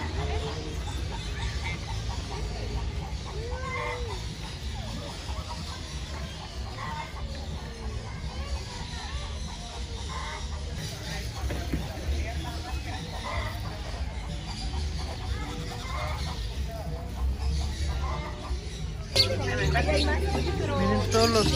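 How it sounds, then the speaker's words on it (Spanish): Birds and chickens in a large aviary cluck and chirp continuously at moderate distance, with people talking over the background of fowl noise. "Miren todos los pajaritos que hay aquí en el aviario"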